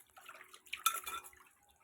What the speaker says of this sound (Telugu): గిన్నెలో వేసేసుకొని నీళ్ళు వేసుకోండి కడుక్కోండి బాగా కడిగేసుకోండి క్లీన్గా